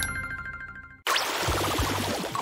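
A notification bell sound effect rings out as a bright, sustained ding for about a second, then cuts off abruptly into unrelated busier sounds.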